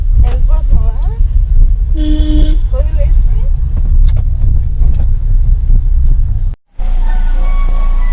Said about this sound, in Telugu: మా కారులో వెళ్తున్నాము